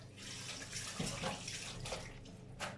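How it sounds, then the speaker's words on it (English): Tap water runs steadily in a home kitchen as hands are rinsed under it, a soft continuous splashing with slight fluctuations, moderately quiet and free of talk. "Give my hands a wash off."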